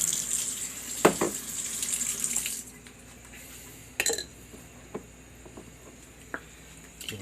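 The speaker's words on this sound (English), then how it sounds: "Add a little bit of water to this." Tap water runs steadily into a cooking pot for cheesy beef and potatoes, a close, hissing stream that stops after a few seconds, followed by a few light clinks.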